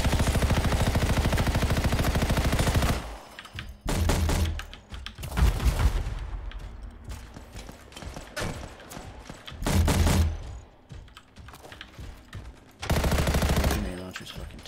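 Heavy automatic gunfire and thudding grenade launcher blasts in the Anthem open demo come in loud, dense bursts separated by quieter gaps, with rapid shots stacking into sustained volleys.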